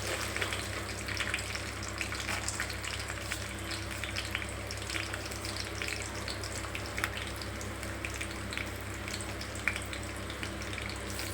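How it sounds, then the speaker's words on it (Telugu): Lentils and peanuts sizzle steadily in hot oil as a tempering for coconut rice, a continuous close frying crackle with small pops, and no talk over it. "కొబ్బరి అన్నంకి పోపు వేస్తున్నా ఫ్రెండ్స్"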